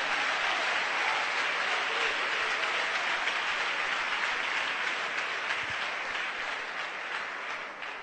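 A church congregation claps and cheers in praise, a broad, sustained wash of applause that holds steady and eases slightly toward the end, with no clear speech on top.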